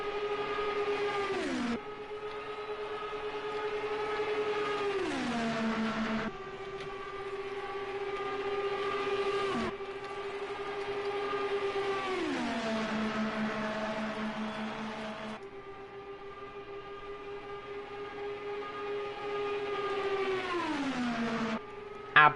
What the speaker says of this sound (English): We're just letting you listen into some of this beautiful sounds of these cars